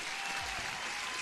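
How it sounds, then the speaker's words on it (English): Steady applause sound effect fills a live stream, a dense, continuous wash of clapping at constant level throughout, with no voices over it. "Applause."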